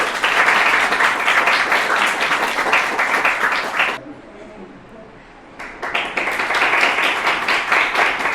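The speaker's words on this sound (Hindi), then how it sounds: "इनके लिए भी एक बार जोरदार तालियां।" An audience at a school results event in Mahwa tehsil applauds a teacher, with loud, dense clapping that stops abruptly for about a second and a half, then resumes just as strongly.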